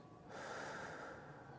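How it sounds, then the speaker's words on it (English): One slow, airy exhalation through the nose or mouth, soft and close, starting after a brief pause and trailing off gently during a relaxation exercise. "Breathing out"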